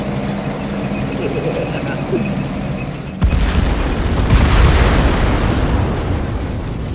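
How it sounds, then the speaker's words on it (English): A siege artillery round from Men of War Assault Squad 2 bursts at about three seconds into a loud, broad, rumbling boom that keeps rolling and roaring as a shockwave through the remainder, over faint game ambience beforehand. "Fires a siege artillery round!"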